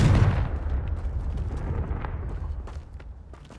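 The Confringo fire spell bursts in the Hogwarts Legacy video game, opening with a booming explosion that fades into a crackling, rumbling tail, with scattered faint pops afterward.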